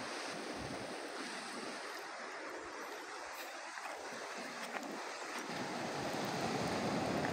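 Seawater rushes in with the rising tide, a steady, broad wash of surf and water noise, with wind buffeting the microphone throughout.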